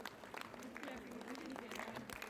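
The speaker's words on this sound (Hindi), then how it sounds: "ये देखिए क्या हौसला और उत्साह है, तालियों की गड़गड़ाहट।" Applause from a crowd at an International Women's Day celebration in Kullu, quiet, dense clapping heard from a distance with voices mixed in.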